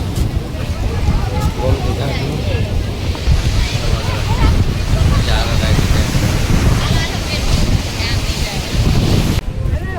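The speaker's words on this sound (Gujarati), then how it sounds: "ગોમતી ઘાટના મોજા છે જોરદાર" Strong sea waves surge and wash at Gomti Ghat in Dwarka, a continuous roaring rush of surf with heavy wind buffeting the microphone and faint crowd voices in the background.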